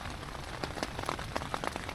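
Rain patters steadily on a surface outdoors along a cold mountain trail between Damascus and North Carolina, with scattered sharper drop taps over a soft continuous wash, fairly faint and without voices.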